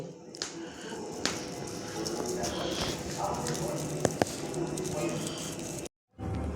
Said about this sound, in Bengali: এবার আমি এটা ছেঁকে নেব।